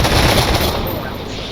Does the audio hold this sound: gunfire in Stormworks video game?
yes